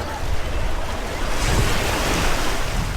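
Sea waves wash onto Doctor's Cave Beach in Jamaica, a continuous broadband surf rush rising and falling close by, with wind buffeting the microphone and no clear speech.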